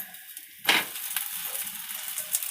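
Rice uttapam on a pan over low gas gives off a steady hiss of sizzling that starts abruptly, as if the batter meets the hot surface, and continues evenly.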